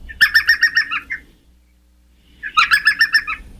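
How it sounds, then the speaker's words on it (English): An elf owl, the world's smallest owl, gives two loud, close bursts of rapid, high-pitched yelping chirps, each lasting about a second and separated by a short silence. "unless, of course, it's the elf owl."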